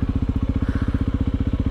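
Honda CRF250L dual-sport motorcycle ridden along trails in cottage country, its single-cylinder engine chugging in a steady, rapid low pulse, close and loud throughout with no talk.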